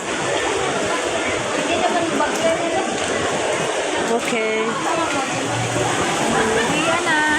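Rain falling steadily on a Singapore street, a constant dense hiss that covers the whole stretch, with a brief spoken word and faint voices in the background.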